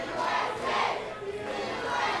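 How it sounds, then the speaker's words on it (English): Wrestling fans in an arena cheering and chanting "USA", a loud, steady crowd roar that swells and falls in waves over a couple of seconds, with no clear speech on top. "These fans just cheering you, just chanting USA"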